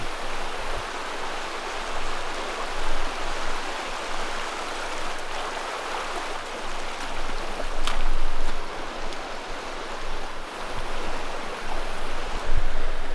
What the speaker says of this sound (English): I love that sound. I love the sound of creek, flowing water.